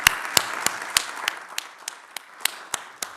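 Rhythmic clapping at an academic public health conference, a small group applauding in an even beat of about three claps per second, sharp and fairly close, with light room murmur beneath.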